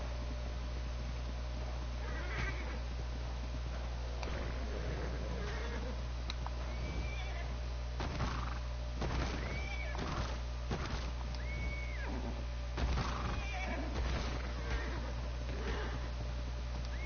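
A horse in the survival game ARK gives several short, thin whinnies spread across the stretch over a steady low hum of game ambience, moderately near and not very loud.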